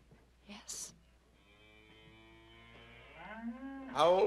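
A cow moos in a long, low drawn-out call that rises toward the end, with brief breathy voices near the start.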